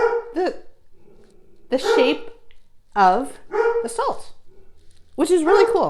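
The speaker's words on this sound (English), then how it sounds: "I think you can probably hear my dog barking" A dog barks and yips several times in a home, short bursts heard close by and mixed in with a person talking over them.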